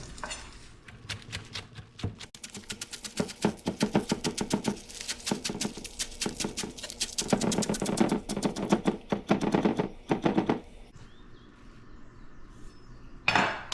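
Rapid knife taps on a cutting board as green onions are minced, dense rhythmic chopping in bursts that speed up and then trail off, close and clear with no talking.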